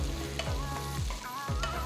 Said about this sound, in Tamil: 2 பெரிய பல் பூண்டு பொடியை நறுக்கினது, 2 பச்சை மிளகாய் பொடியை நறுக்கினது, கொஞ்சமாக கருவேப்பிலை சேர்த்து நல்லா வதக்குங்க